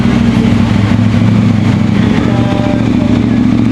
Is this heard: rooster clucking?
no